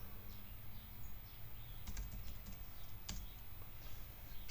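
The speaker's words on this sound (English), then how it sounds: "And if I type in hello," Quiet typing on a computer keyboard, a loose run of light key clicks with a couple of sharper taps, heard alone in a quiet room.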